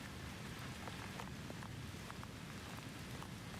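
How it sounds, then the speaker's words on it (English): Soft, steady drizzle falling on a countryside setting with gravel lanes, a continuous even hiss with scattered light drops tapping close by, heard alone without any voices. "Let the rhythm of the rain become the only sound."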